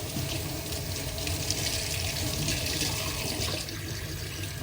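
Tap water runs steadily into a sink while malunggay (moringa) leaves are washed, a constant close splashing rush with no pauses.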